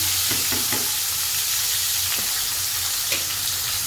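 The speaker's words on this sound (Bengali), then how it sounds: "এমনি করে একে একে সব মাছগুলো ভেজে নেবো" Koi fish fry in hot oil, a loud, steady sizzling hiss close by, broken by a few short scraping knocks from a spatula in the pan.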